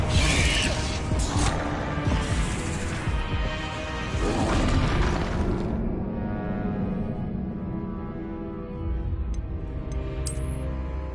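Spell-casting effects from the Hogwarts video game, with an Incendio fire spell producing dense booms, crashes and crackling bursts that swell and fade over several seconds, followed by a softer rumbling tail and brief high chimes near the end.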